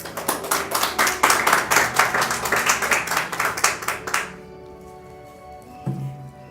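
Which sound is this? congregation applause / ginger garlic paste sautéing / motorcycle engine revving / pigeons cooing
congregation applause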